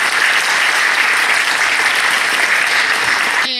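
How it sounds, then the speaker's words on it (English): Theater audience at the Listen To Your Mother event in Whiting's historic Hoosier Theater applauds the evening's emcees, a dense, steady wash of many hands clapping at full volume throughout, ending abruptly. "let's give them a round of applause"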